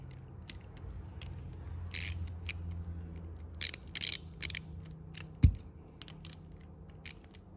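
Metal clicks and light ratcheting taps from a 7mm wrench tightening a nut on an Axial 3-gear RC truck transmission, with a few sharp ticks and one louder clack, close and fairly quiet with no talk.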